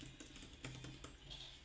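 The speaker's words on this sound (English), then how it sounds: "Spam, spam, spam the arrow keys." Computer keyboard arrow keys are tapped rapidly during a Roblox VR game, a fast, faint patter of clicks close to the microphone with no speech.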